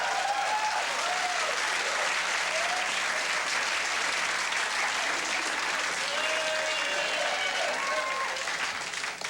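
Sustained applause from an audience at a comedy slideshow about a boat trip, a dense, steady wash of many hands clapping for several seconds, with brief whoops and voices rising over it.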